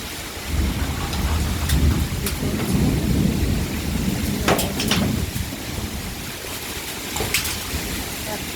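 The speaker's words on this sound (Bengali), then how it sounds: "ঝড় বৃষ্টি থামলে দেখতে হবে" A thunderstorm with heavy rain lashes a rooftop garden of dragon fruit plants: a dense rain roar with low rumbling thunder and gusting swells, plus several sharp cracks or knocks, loud and close.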